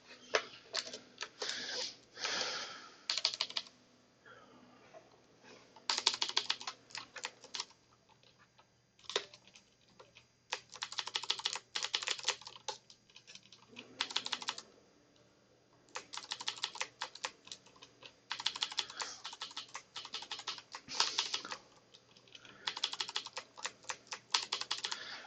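Rapid bursts of keystrokes on a computer keyboard, among spare junk keyboards being tested for a self-managed network setup, come in clustered runs separated by short pauses, close and fairly loud, with no talking.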